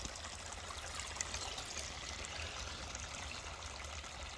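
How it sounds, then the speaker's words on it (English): A small waterfall at a farm pond trickles and splashes continuously, a faint, steady watery rush with no other sounds standing out. "Got a little waterfall going on."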